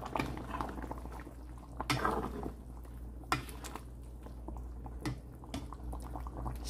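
A pot of beef pochero with green beans simmers on the stove. The bubbling is quiet and steady, with occasional soft pops and light clinks.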